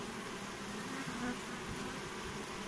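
Honeybees in the Vysočina region hum in a dense, continuous buzz while taking supplementary sugar-solution feed. The swarm is close and steady throughout.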